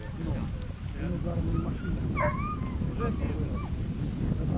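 Hound dogs at a hunting-dog show in Chernihiv give short yips and whimpers amid a busy, noisy crowd, with a couple of brief higher whines standing out midway and people talking throughout.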